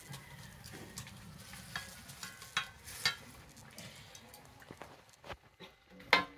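Fish and fried banana-flower fritters simmer in a boiling village-style curry, a quiet bubbling hiss with soft irregular knocks and stirring scrapes, close but low in level, no voices.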